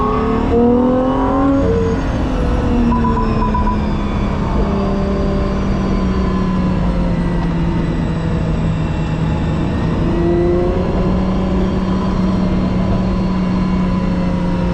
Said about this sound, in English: So you hear the induction